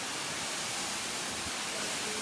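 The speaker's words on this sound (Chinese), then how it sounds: "我们走到这个大瀑布跟前来了" A large waterfall in the Yunlong Difeng gorge of Enshi Grand Canyon roars steadily up close, a dense, unbroken rush of falling water filling the whole moment.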